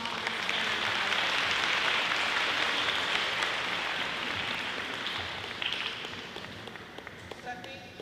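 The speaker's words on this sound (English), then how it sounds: "they get a huge round of applause for putting all of this together" An audience at a talk on the fight against fentanyl gives the planning committee a long, loud round of clapping, a dense patter that holds steady and then thins out toward the end.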